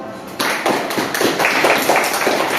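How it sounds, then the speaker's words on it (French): A crowd bursts into applause, many hands clapping together loudly and steadily nearby. "Je vais vous demander d'applaudir pour lui."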